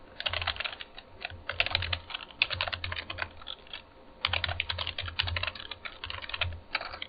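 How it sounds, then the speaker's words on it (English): Quick bursts of keystrokes on a computer keyboard as a web address is typed, a close, steady patter of clicks with short pauses between groups and no talk. "Let's just type it in."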